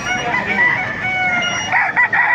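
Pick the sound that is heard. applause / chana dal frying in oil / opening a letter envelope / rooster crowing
rooster crowing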